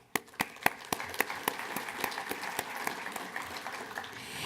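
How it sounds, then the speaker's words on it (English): An audience breaks into applause, with distinct sharp claps at first that spread into steady, moderately loud clapping throughout. "you all deserve a round of applause"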